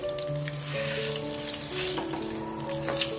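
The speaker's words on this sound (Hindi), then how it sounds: "और साथ ही हम इसमें कड़ी पत्ता डाल देंगे। थोड़ा सा इसको पकाएंगे।" Curry leaves dropped into very hot oil with cumin seeds, frying for kadhi, give a steady close sizzle and crackle with a few sharper pops, moderately loud and continuous, with no talking.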